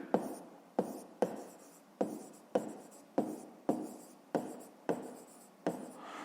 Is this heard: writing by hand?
yes